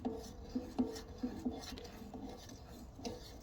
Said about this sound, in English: what we can do, we can give it a stir